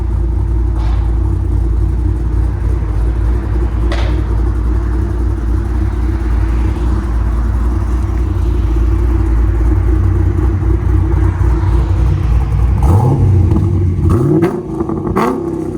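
A deep, lumpy cammed V8 in a Chevy Camaro SS idles with a loping rumble, then revs up sharply near the end with rising, rough throttle blips.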